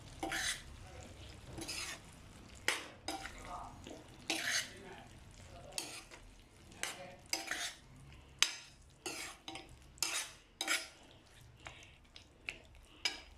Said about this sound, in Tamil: வெங்காயம் கடலக்கொட்டை இது எல்லாத்தையும் இதில் போட்டுட்டு நல்லா கிளறி விடணும்